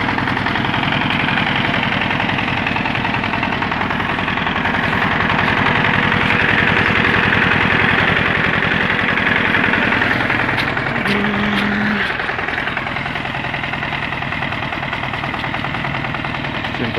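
Small 4x4 tractor engine running while driving off-road, a loud, steady close-up chugging drone with a rough mechanical rattle, continuous throughout with only slight changes in load.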